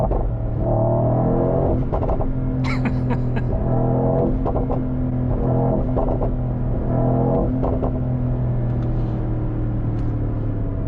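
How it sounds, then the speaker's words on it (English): A V8 bi-turbo car accelerates hard, its engine revving and rising in pitch through several surges, loud and close with a steady roar. "Liter V8 bi-turbo, let's go!"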